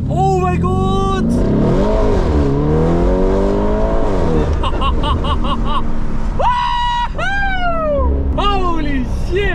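A Mansory Urus in sport mode accelerates hard onto a motorway, its engine howling through rising and falling gear sweeps, loud and close, with excited voices shouting over it.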